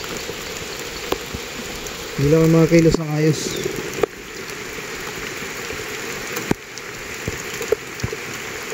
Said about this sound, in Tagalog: ayan, nakikita nyo, lakas ng ulan.